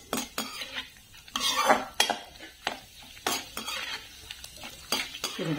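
Raisins and dry fruits frying in ghee in a pan over medium heat, with repeated metal spoon clinks and scrapes against the pan over a soft sizzle, irregular stirring strokes throughout.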